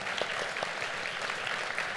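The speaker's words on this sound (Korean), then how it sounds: "연사자 네 분께 큰 박수 부탁드리고요" An audience at a Criteo Commerce Forum conference applauds the four speakers, a steady, even clatter of many hands clapping in a hall, with no talking.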